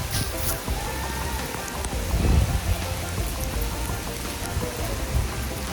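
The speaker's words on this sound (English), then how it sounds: "Just started to rain." Rain patters steadily on surfaces nearby, with a few louder splashes and thumps mixed into the continuous hiss.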